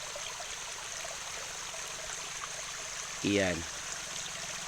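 Water runs straight from an open pipe after its hose has come off, making a steady rushing hiss throughout while someone briefly speaks over it.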